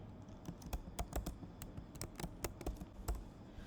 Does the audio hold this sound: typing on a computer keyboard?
yes